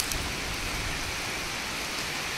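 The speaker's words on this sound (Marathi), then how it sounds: "पाऊस पडलाय" Steady rain falls outdoors during a fishing trip, a dense, even hiss of drops on surfaces running throughout at constant moderate level, with no voices.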